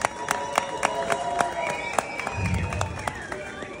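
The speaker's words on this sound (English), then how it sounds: "Let's give them a round of applause," Applause from the audience at a North Vancouver civic memorial gathering, scattered claps with a voice talking and tonal sounds over them, a brief low rumble partway through.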